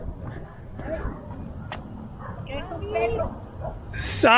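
A guard dog in a city street in Guanajuato, Mexico, barks and yips a few times at a moderate distance. Street noise and a passing car sit under it, and people talk nearby.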